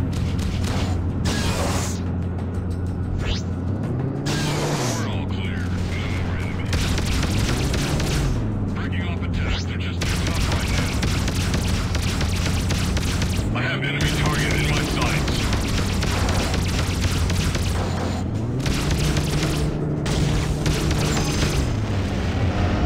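Missile explosions and rumbling booms in the space combat game Freelancer, heavy low blasts over a continuous droning engine hum with swelling pitch sweeps and a voice speaking at times.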